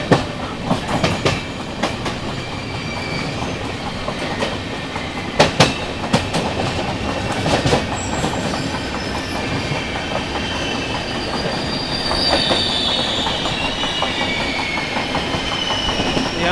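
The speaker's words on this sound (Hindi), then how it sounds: "तो ये देखो गुंटूर के आउटर में कोई ट्रेन है।" A train rolling along the rails on the outskirts of Guntur, with steady clickety-clack and a few sharp metallic bangs early on, then a continuous close rumble and faint wheel squeal.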